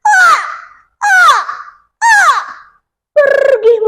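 An eagle cries in a told story: three loud, sharp, descending screeches evenly spaced about a second apart, then a fourth, more wavering call, each heard alone against silence.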